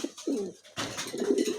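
Pigeons coo softly in two short bursts of low throaty calls, close by and fairly quiet, with no talking over them.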